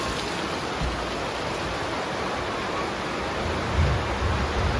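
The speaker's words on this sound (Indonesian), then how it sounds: "Tapi di luar hujan." Steady rain falling outside a kitchen in the early evening, an even hiss of moderate loudness with no talking.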